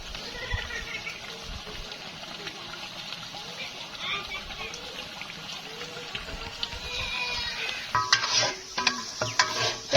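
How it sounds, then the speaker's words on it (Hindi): Masala frying in oil and being stirred in a large pot for degi chicken korma, a constant sizzle with scraping spoon strokes, close and steady, growing louder with sharper clatters near the end; someone talks over it. "तो ये देखिए मसाला हमारा अच्छे से भून चुका है।"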